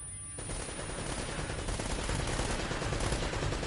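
Gunfire in the video game Uncharted rattles in rapid, sustained automatic bursts, loud and continuous throughout with no voices over it.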